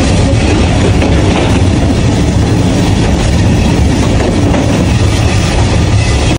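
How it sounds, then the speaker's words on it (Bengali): A train rolls steadily along rails on the Mymensingh to Sunamganj route, a loud, continuous rumble with a dense clickety-clack of wheels running close and unbroken, with no voices over it. "বরাবরই ট্রেন জার্নিটা আমার কাছে খুবই ভালো লাগে"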